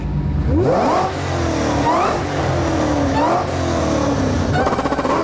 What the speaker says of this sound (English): V8 up front. Let's hear the noise it makes out the back.